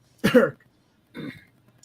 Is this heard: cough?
yes